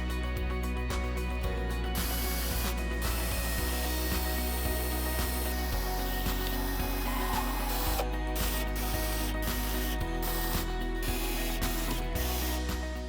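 A screw driver runs in long continuous whirring bursts with brief pauses as deck screws are driven into the boards of a wooden raised garden bed, loud and close with no speech.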